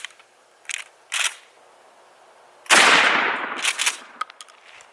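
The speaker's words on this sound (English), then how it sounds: "And now the Winchester 3-inch 1 ounce slug." A 12 gauge shotgun fires a Winchester 3-inch 1 ounce rifled slug at close range outdoors, making one loud, sharp blast that decays over about a second, with a few faint clicks before and after.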